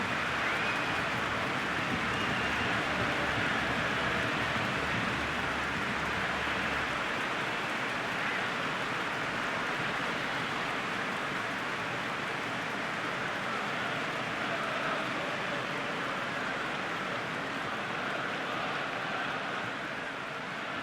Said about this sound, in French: cette pluie va se calmer un tout petit peu en cours de match